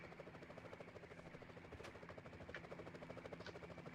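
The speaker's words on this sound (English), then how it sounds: "Whoa, police choppers." Steady rhythmic thumping of a police helicopter's rotor blades in a Spider-Man video game, moderately loud and continuous, with a few brief electronic blips over it.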